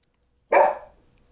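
A dog lets out a single short, loud bark close by, alone after a moment of quiet.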